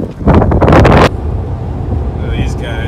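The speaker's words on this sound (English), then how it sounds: "she is windy" Strong wind buffets a microphone outdoors at a mud racing event, a loud blustery rumble that drops after about a second into steady lighter gusting, with faint tones near the end.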